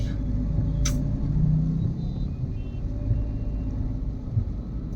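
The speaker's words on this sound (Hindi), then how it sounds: "आज ट्रैफिक भी बहुत ज़्यादा है।" Heavy road traffic rumbles steadily around a Mahindra Thar on the move, a low continuous engine-and-road drone with a brief sharp noise early on and no talk.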